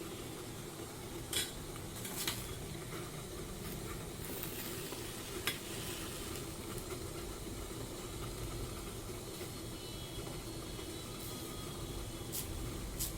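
Banana kayada, or pazham ada, cooking in a pan, a soft continuous sizzle under a low hum, with a few light clinks as the pieces are turned.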